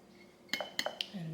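Ground turmeric latte ingredients being stirred together, giving a few faint metallic clinks of a spoon against a dish, three or four light taps close by in a quiet room.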